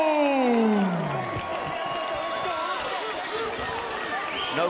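A fight crowd at a bare knuckle boxing event in Cardiff roars and cheers loudly and continuously for local Welsh boxer Jonny Jones, with a whooping voice sliding down early on and an announcer's voice mixed in.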